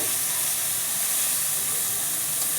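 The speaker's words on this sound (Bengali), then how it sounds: "দেখুন কিভাবে ভাজা হচ্ছে পেঁয়াজটা, ঠিক এইভাবে ভাজতে হবে" Onions frying in a pan as they brown, a steady broadband sizzle and hiss, even and close, with no talking.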